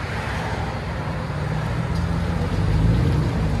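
A 2009 Chevy Silverado with a 5.3L V8 and straight-pipe dual exhaust gives off a steady, broad low rumble that swells slightly toward the end, heard alone without talk.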